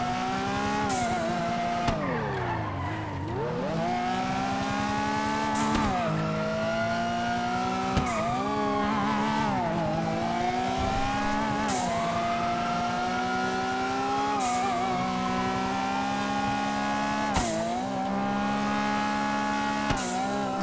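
A video-game car engine revs continuously, its pitch climbing and dropping in repeated sweeps as it shifts and accelerates. Sharp gear-change breaks recur every few seconds, with no talking over it.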